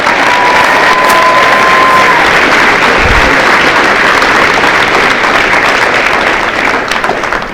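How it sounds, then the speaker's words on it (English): Steady, dense crowd applause fills a football signing-day event, loud and sustained throughout with no break, trailing off only slightly at the very end. "All right, everybody give him one more round of applause, please."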